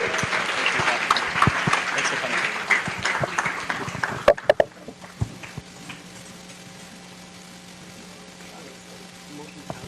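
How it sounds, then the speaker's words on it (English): Audience at a Kilo Hōkū Demo Day 2019 startup event claps for Team Nā 'Aumakua, a dense round of applause that fades after about four seconds, leaving scattered claps and quiet room tone. "Ladies and gentlemen, a round of applause."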